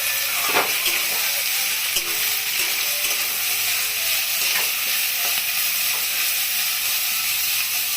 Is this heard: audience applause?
no